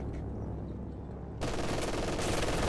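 Machine gun fire from a Company of Heroes 2 battle, a muffled low rumble that turns into a louder, denser burst of continuous fire partway through, with no voices.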